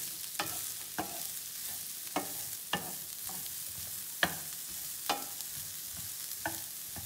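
Vegetables for a honey garlic chicken stir fry cook in a pan, giving a soft steady sizzle punctuated by occasional sharp scrapes and clacks of stirring, close and moderately quiet with no talking.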